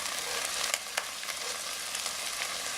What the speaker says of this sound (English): So give that a nice mix in the wok